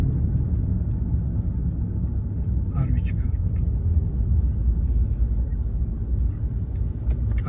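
A car on a Kutaisi driving test road rumbles steadily with a low engine hum heard from inside the cabin, while people talk over it.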